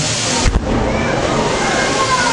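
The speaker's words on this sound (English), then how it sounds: "we will be using special effects such as water cannons" Special-effects water cannons, pressurized up to 100 pounds per square inch on a film set, spray a loud, steady rushing gush with a brief burst near the start.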